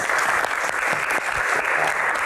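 Studio audience at a hajj-themed Q&A program clapping to welcome a guest, a steady, full round of applause from many people, fairly close and sustained throughout.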